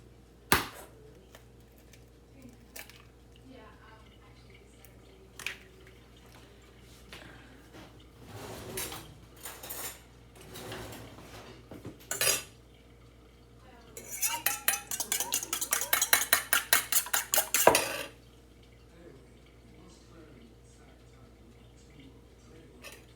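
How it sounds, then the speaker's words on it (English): Two eggs beaten in a bowl with a utensil, scattered clinks at first, then a fast burst of rhythmic tapping against the bowl for a few seconds before it trails off into quiet. "beat the 2 eggs"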